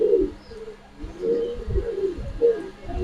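White racer pigeons coo at a pigeon farm in soft, repeated low rolling calls, several overlapping in a close, quiet coop with no talking.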